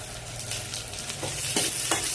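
Dried red chillies and curry leaves sizzle and crackle in hot oil, a steady close frying hiss with a few sharper pops as they are stirred, no voices.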